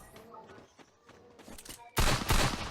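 Gunfire in the mobile battle royale game Free Fire, in a Grand Master lobby match: quieter in-game rustles and thuds, then a loud, dense burst of shots for the final second.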